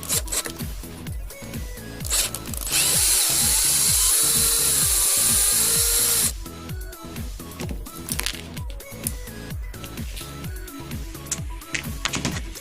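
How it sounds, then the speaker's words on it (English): Two 2mm headed screws being removed from a Vaterra Halix RC car bumper: close, scratchy tool rubbing and whirring, with one longer, louder sustained burst in the middle and no talking. "remove two 2mm headed screws from these two holes here"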